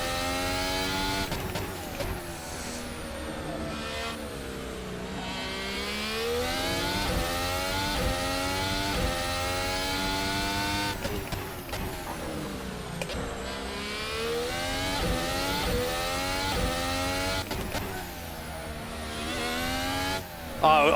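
A Formula 1 car in a racing video game laps the Baku street circuit, its high engine whining up through the gears and dropping on braking, in repeated rising sweeps that run steadily and loudly with no talk.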